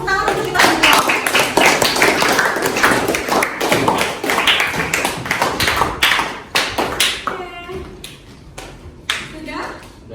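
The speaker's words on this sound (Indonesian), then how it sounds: "Tepuk tangan untuk kita semua." A school class applauding, with loud, close, rapid clapping from many hands that thins out toward the end, while voices talk over it.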